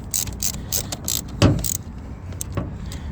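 A hand ratchet clicks in quick bursts while tightening the car battery terminal on a 2007 second-generation Mini Cooper, close and fairly loud with short pauses between strokes.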